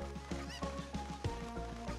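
Chicken clucking from Zelda Ocarina of Time, a few short squawking calls repeating over steady looping game music.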